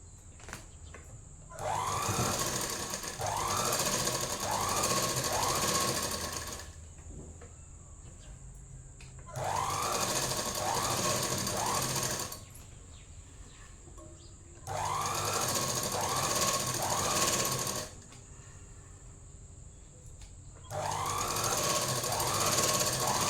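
Tailoring machine stitching a chudidhar top, running in four rhythmic bursts of several seconds each with a rapid chattering pulse, pausing quietly between runs.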